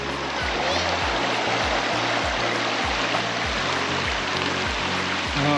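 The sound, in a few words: river water flowing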